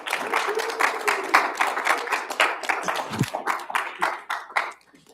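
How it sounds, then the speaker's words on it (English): A small audience at a professional presentations session applauds with distinct, closely spaced hand claps that carry loudly and fairly evenly, then thin out and stop near the end, with a brief voice partway through. "round of applause for him."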